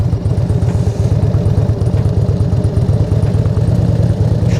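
A motorcycle engine runs at low speed through tight leaning turns, a steady close low rumble with rapid even firing pulses and a light mechanical clatter throughout.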